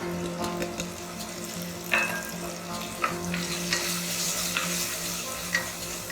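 Onions and tomatoes fry with chili powder, salt and sambar powder in a pan for a South Indian sambar, a steady close sizzle broken by a few sharp stirring scrapes and clinks.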